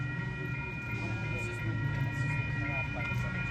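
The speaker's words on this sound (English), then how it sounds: "That's a northbound local train making all stops to 4th and King Street Station in San Francisco" Caltrain 157, a northbound local, rumbles past a station with a steady low drone and sustained tonal hum, a faint horn or squeal rising and falling, while people talk nearby.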